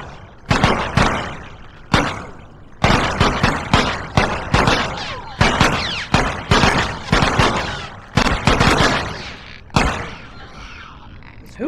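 Gunfire in The Last of Us Left Behind: a string of loud, sharp shots, single and paired, spaced unevenly across the stretch with brief echoing decays between them.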